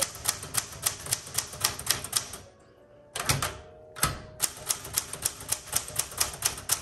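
A 1967 Smith Corona Super Sterling manual typewriter is typed at a steady, even rhythm of close, crisp key strikes, broken by a brief pause and a heavy carriage-return thunk before the typing resumes.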